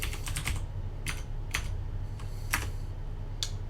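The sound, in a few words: typing a command on a computer keyboard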